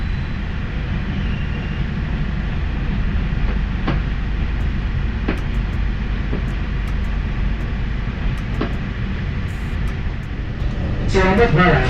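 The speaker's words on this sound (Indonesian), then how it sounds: "Ini beneran kereta terakhir yang berangkat dari Jakarta sih." A Cirebon passenger train rolls out of Jakarta Gambir station at night, a steady low rumble with periodic rail clicks and knocks, rising slightly near the end as a higher tone enters.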